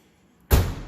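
Trunk lid of a 2001 Lexus LS430 slamming shut: one close, heavy thud with a metallic edge, starting abruptly after a quiet lead-in and decaying over half a second.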